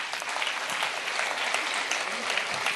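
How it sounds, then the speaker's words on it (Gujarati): An audience at a speaking contest prize distribution claps in sustained, dense applause that fills the whole stretch evenly, with no pauses. "આપ જેટલી પણ તાળીઓ પાડશો તેટલી એ લોકો માટે ઓછી છે"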